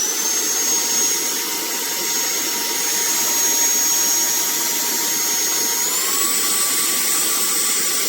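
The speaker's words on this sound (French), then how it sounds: "Je vous fais juste entendre le bruit de l'aspirateur. Il n'est pas très bruyant." TANYO cordless handheld vacuum cleaner running on its own, a steady close airy whine with a high motor tone that shifts up slightly partway through, with no talk.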